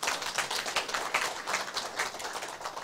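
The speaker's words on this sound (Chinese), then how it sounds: "你们给他拍手哟" A lecture-hall audience applauds at a seminar, a steady spread of hand claps sustained throughout, moderately close and without talk over it.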